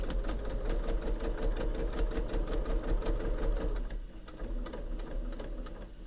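A sewing machine stitches over a seam while a sewing machine mat is pieced, running as a fast, steady mechanical whir with a rapid needle rhythm that dips briefly before carrying on slightly softer.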